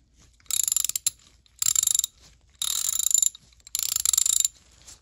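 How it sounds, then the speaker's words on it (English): A KAL USA 3/8-inch drive ratchet clicks in four short bursts of rapid, crisp ratcheting, each lasting under a second with brief pauses between, close and fairly loud with no talking. "And just walk it down until you hear it click."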